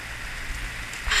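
Heavy rain pours steadily across a sailboat at sea during a storm, a dense hissing wash that stays constant and close, rising slightly louder at the end.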